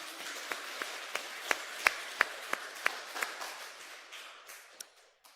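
A small congregation at a Sunday church service claps in a brief round, sharp individual claps spaced irregularly and fairly distant, thinning out toward the end.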